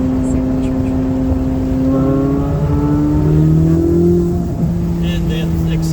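A paddle-shift sports car weighing about 3,600 pounds pulls hard after a downshift, its engine note climbing steadily and loudly from inside the cabin over a constant road roar.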